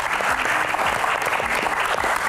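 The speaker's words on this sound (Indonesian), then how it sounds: "Tepuk tangan dulu buat Sherly." An audience claps for Sherly in a steady burst of applause, a dense, even patter lasting about two seconds.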